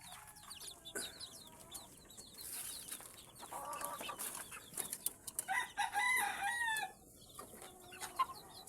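Young chicks peeping in a farm setting, thin high chirps scattered throughout with a few quick clusters of calls, with faint clucking and background bird noise, fairly quiet and close.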